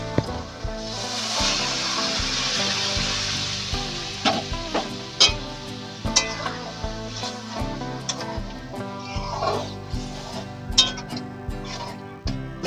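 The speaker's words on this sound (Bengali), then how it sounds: "এবার আমি সেদ্ধ করা ডালটা ঢেলে দিচ্ছি" Boiled chickpea dal poured into a hot pan, a bright sizzling hiss that settles into bubbling with scattered stirring scrapes and clinks, close by.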